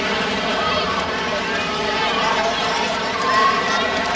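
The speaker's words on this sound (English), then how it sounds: "The Dutch crowd roaring Kreuzer around" A large Dutch crowd at a 1977 athletics event roars steadily from a distance while a commentator talks over the constant hubbub.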